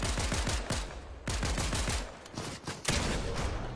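Rapid gunfire in the video game Fortnite, several quick bursts of shots cracking one after another, loud and close, with short gaps between volleys.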